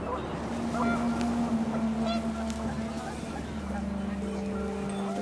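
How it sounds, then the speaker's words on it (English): Panicked geese honk in the video game What Remains of Edith Finch, with a few scattered calls riding over a steady windy outdoor bed and a low continuous drone. "and panicked geese appeared and quickly went."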